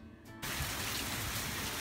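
Steady rain falling outside, a dense hiss that begins abruptly after a brief quieter moment and continues evenly close by.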